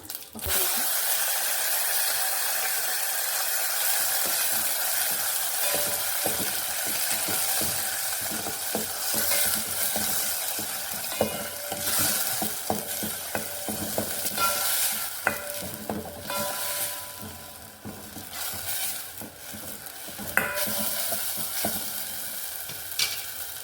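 Curry leaves with a ground paste of tomato, garlic, pepper and cumin sizzling in a pan for paruppu rasam, a steady hiss broken by scraping stirs and spattering pops, close up.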